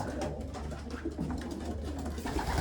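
Racing pigeons coo steadily inside an aviary at a racing loft, soft low throaty calls overlapping close by against a constant background hum, with no talking.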